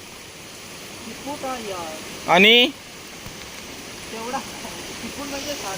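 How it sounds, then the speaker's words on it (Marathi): Steady rain falls outdoors during crab trapping, an even hiss across the whole stretch, while a person speaks briefly over it. "आधी पाऊस जाऊ दे जरा"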